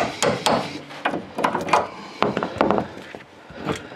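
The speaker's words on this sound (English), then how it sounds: "just get a chisel and put in behind the washer or the head of the bolt here and hit it" A steel chisel is driven behind a suspension bolt head with a hammer, giving a run of sharp, close metallic strikes in irregular bursts, with no talk.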